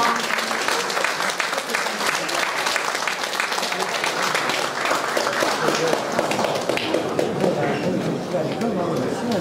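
Guests at a Korean wedding ceremony clap steadily for nearly ten seconds, a dense, even patter of many hands filling the hall at moderate volume.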